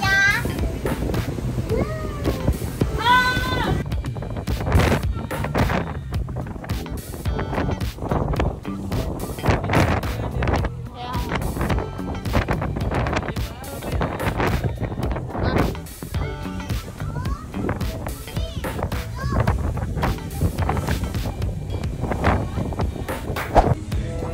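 Strong wind gusts batter the microphone continuously while children and adults talk and call out nearby, outdoors in Mindoro, Philippines.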